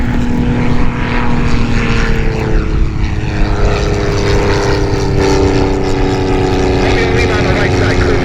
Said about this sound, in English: Warbird on the left, the red one, you're clear for takeoff.